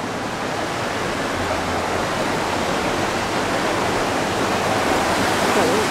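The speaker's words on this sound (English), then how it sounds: "A few more little roaring rapids." River rapids along the Estes Park riverwalk rush and churn in a continuous near roar, steady and broadband, with a faint low hum briefly underneath and no clear talk.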